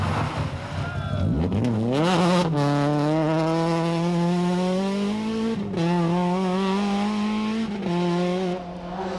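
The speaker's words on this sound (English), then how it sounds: "we're seeing speed and reliability from the Formula 2 Volkswagen entry" A Formula 2 Volkswagen rally car on the 1995 Ulster Rally revs hard and climbs through the gears, its engine note rising loud and close, with a brief lift around the middle before it pulls away again.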